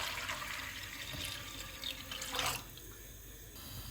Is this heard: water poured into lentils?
yes